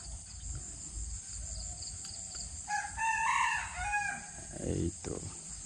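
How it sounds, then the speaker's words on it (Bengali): A rooster crows once at middle distance on a foggy winter village morning, the call rising clearly over a steady background hum of insects. "মোরগ ডাকছে"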